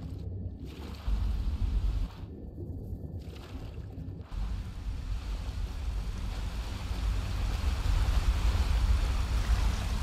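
Water and waves in the fantasy video game Skyrim with the Enderal mod, a steady wash of surf and lapping water with wind, rising slightly toward the end, with no talking.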